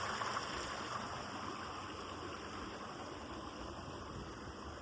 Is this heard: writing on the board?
no